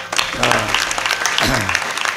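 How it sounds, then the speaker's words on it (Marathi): An audience at a kirtan applauds students and performers, a brief burst of clapping mixed with crowd voices and a tonal background sound. "सर्व गुणीजनांना आणि या सगळ्या विद्यार्थ्यासाठी एकदा टाळी वाजवा"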